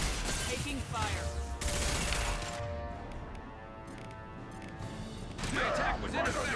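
Gunfire in a firefight in Mass Effect Legendary Edition, with loud bursts of shots and crashes in the first seconds and again near the end, over game music and effects.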